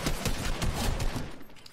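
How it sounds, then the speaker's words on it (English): Rapid bursts of submachine gun fire in the Fortnite video game, dense crackling shots packed close together for under two seconds, loud and near with no talk. "Submachine gun."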